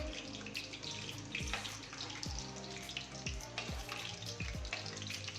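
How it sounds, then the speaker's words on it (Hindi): Food for Ramzan iftar dishes such as malai boti, pinwheels and rolls fries over a medium flame, giving a steady, close sizzle with a few sharper tonal sweeps on top. "मीडियम आंच पे हम इसको फ्राई कर लेंगे।"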